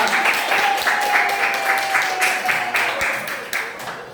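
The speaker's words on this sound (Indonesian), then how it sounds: "Tepuk tangan untuk kita semua." A class of students applauds together, steady rhythmic clapping in sync with a faint tone underneath, fading slightly at the end.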